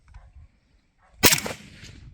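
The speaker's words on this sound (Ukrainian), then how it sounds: "робимо постріл" A single sharp gunshot cracks out after a moment of near silence, followed by a brief fading echo.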